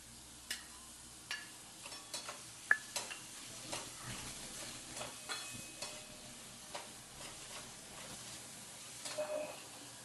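Momo filling is sautéed in a pan, a faint background sizzle punctuated by a long irregular series of light spatula taps and scrapes against the pan, close but quiet, with no voices.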